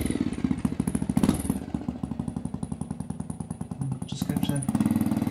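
A Triumph Tiger Cub trials motorcycle idles close by with only a minimal silencer, its single-cylinder engine thumping in a fast, even pulse that rises briefly midway, while a voice talks over it.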